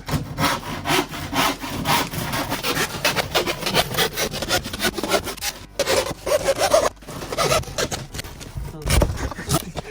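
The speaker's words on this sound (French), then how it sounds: "On va venir découper plusieurs traverses dans des morceaux de bois comme ça" A handsaw cuts wooden crosspieces for a ramp: rapid, rhythmic back-and-forth rasping strokes, loud and close, with brief pauses between bursts and no talking.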